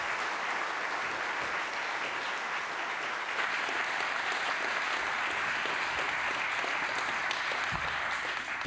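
A lecture audience applauds steadily for Professor Tamara Davis at a public science evening talk on dark energy, dense sustained clapping filling the room without letup.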